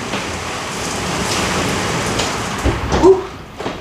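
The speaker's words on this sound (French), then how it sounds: "il y a l'orage ici, les fenêtres étaient ouvertes, il y a eu un gros coup de vent" Rain falling during a thunderstorm, heard through open windows, makes a steady broadband hiss, with a short louder gust of wind surging near the end.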